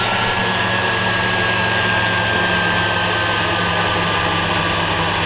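JJRC H40WH land/air FPV tank drone motors run at full throttle with a loud, steady, high-pitched whine and drone that holds unbroken throughout, close and constant.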